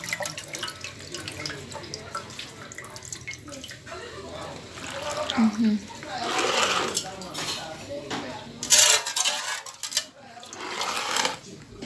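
Water runs and splashes while something is scrubbed and rinsed, with clinking of dishes and a few brief knocks throughout.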